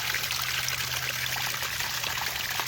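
Water trickling and pouring off a soft rock ledge into a desert canyon, carving a cave behind the fall; a steady, close, continuous splashing dribble with no talk.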